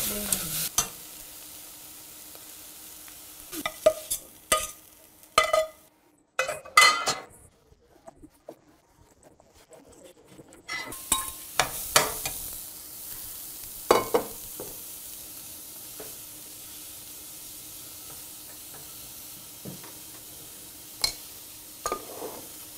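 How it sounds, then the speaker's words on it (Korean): Carrots stir-fried in a pan with only salt for a vegan tofu cabbage gimbap, with intermittent stirring scrapes and sizzle, a quiet gap midway, then renewed clatter and spatula taps close by. "또 당근은 반드시 소금으로만 볶습니다"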